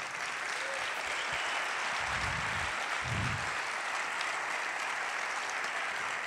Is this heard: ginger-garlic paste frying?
no